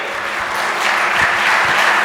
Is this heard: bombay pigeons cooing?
no